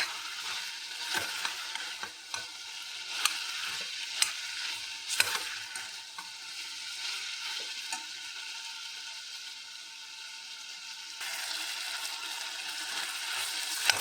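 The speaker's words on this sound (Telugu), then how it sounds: "ముక్కలకు ఉప్పు కారం అన్నీ మసాలా పక్కనికే కొద్దిసేపు ఇట్లా ఫ్రై చేసుకున్నాం" Pieces seasoned with salt, chilli powder and masala fry in a pan, a quiet steady sizzle with occasional spatula clicks and scrapes.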